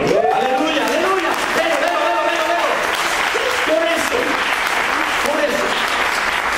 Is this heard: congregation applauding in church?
yes